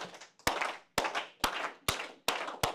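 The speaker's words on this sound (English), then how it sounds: "can you start a slow clap for Will?" An audience starts a slow clap: single loud, sharp, echoing claps in unison, about six in a row with pauses between them that shorten as the rhythm gradually speeds up.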